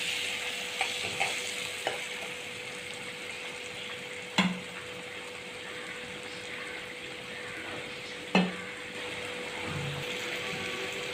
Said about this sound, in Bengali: ভালোভাবে মশলা কষানো হয়ে গেছে, মশলাটা আমার তেল ছেড়ে গেছে। এবার আমি জল দিয়ে দেবো।